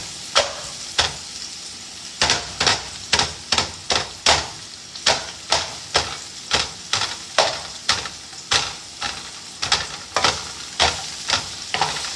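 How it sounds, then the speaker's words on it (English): Vegetable strips, left long for texture, stir-fry and sizzle in a pan, with a steady fry hiss punctuated by repeated sharp, regular scrapes and taps of a utensil being stirred, close and alone. "I'm just gonna cook these down until they are clear and start to get a little bit brown"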